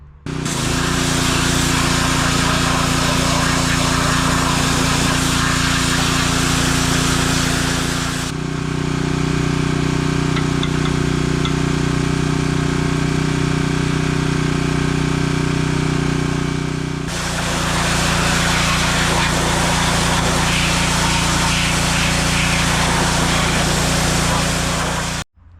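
A Serveta Performer being washed of grease and grime with a steady, loud motorized spray or pressure-washer drone that runs continuously, shifting pitch partway through before returning, with no voices.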